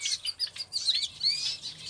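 Excited, hungry exotic birds chirp in an aviary, giving a dense, continuous chatter of high tweets and short whistles with a steady rhythm and no talking.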